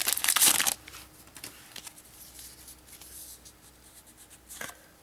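An M12 Magic card booster pack wrapper being torn open: a loud crinkling rip at the start, then softer scattered rustles and crinkles of foil packaging, with another brief crackle near the end.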